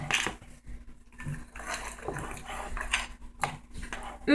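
A spoon stirs biscuit dough in a bowl, making repeated scraping and clinking knocks in an uneven rhythm, close and moderately loud, with no talking.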